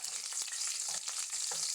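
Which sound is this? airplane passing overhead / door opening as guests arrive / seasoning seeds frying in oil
seasoning seeds frying in oil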